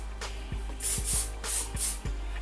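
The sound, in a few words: spraying hairspray upwards onto hair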